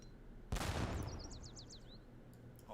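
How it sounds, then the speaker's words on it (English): Explosions and gunfire in the Age of Empires 3 Definitive Edition strategy game: a single sharp, loud blast with a long decaying rumble, followed by quieter chirping game sounds over steady background noise. "I hear explosions somewhere."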